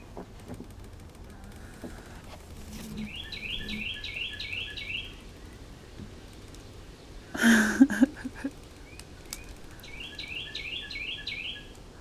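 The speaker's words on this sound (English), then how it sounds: "See, that's confirmation with the birds." Birds chirp outdoors in repeated short bursts of high tweets, fairly faint and set against steady background noise, with a brief louder thump partway through.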